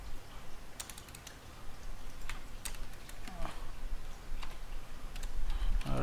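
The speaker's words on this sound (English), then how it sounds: "I'm going to type the name of this server" Rapid clicking keystrokes on a computer keyboard while a server name is typed, steady irregular taps close up under occasional talk.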